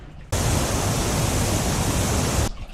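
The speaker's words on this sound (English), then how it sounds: "We got a waterfall here." Water pours from a leak inside the center console of a Sportsman 282 boat, a loud, steady hiss of rushing water that starts abruptly, runs about two seconds, then cuts off.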